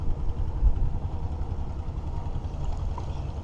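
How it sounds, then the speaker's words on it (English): A steady low engine rumble chugs on throughout, a boat motor droning at moderate distance with no voices over it. "There's a few fishing boats."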